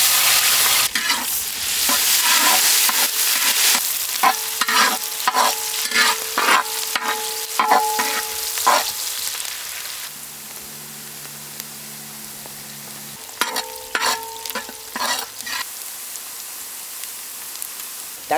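Chopped onions fry in hot groundnut oil with mustard seeds, a loud steady sizzle broken by repeated scraping strokes of a stirring spoon, with a low tonal hum in the middle stretch; no one speaks.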